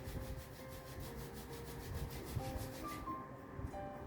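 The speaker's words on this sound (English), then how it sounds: "Rub your palms together." Palms rub together during a yoga breathing practice, a close, steady swishing friction sound with a quick back-and-forth rhythm that continues without talk.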